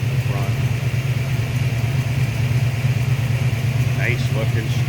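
A 1957 Chevrolet 3100 Stepside pickup street rod with a chrome-dressed engine and modern powertrain idles steadily up close, a deep continuous rumble with a few faint other noises near the end.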